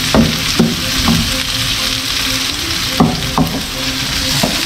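A pan sautéing aromatics before crabs go in sizzles loudly and steadily, with several sharp stirring scrapes and clinks cutting through the frying hiss.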